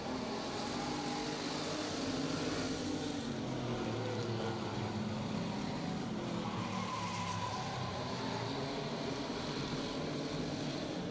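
Race cars roar around a track during qualifying and heat races, a dense, continuous wash of engine noise and tire sound, steady and loud with no clear gaps, no voices heard.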